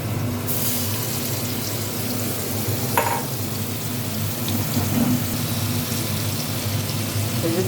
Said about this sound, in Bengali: এই যে ঝিঙেটা আমি দিয়ে একটু নাড়ছি